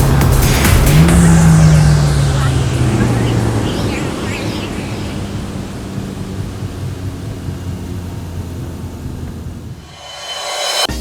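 Mercedes-Benz A45 AMG cruising along a bumpy highway, heard from inside the cabin as a steady loud road and engine rumble with a brief rising whine early on, fading briefly near the end.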